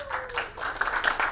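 Audience applause in a seminar room as a speaker hands over the floor, a brief burst of dense, fairly close clapping with uneven claps standing out toward the end.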